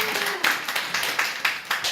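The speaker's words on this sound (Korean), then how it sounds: "다시 한번 박수" A church congregation at a Sunday worship service claps in a steady, regular rhythm, around eight beats spread evenly, over a murmur of voices in the room.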